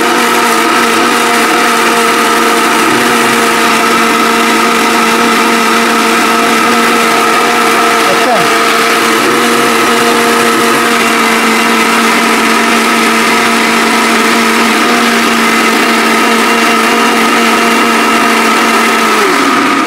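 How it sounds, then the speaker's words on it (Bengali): A Havells mixer grinder blends dry turmeric without water, giving a steady, loud motor whine with a droning hum that runs unbroken for the whole stretch, with no voices. "এটা একমাত্র এই ব্লেন্ডারে সম্ভব, যেটা হ্যাভেলস এর সম্ভব।"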